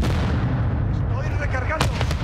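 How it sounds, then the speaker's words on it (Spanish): Battle noise from Call of Duty Modern Warfare II multiplayer, a grenade blast amid gunfire: a loud, continuous rumble of explosions and shots with a few sharp bursts near the end, steady throughout. "¡Lanzando granada! ¡Granada va!"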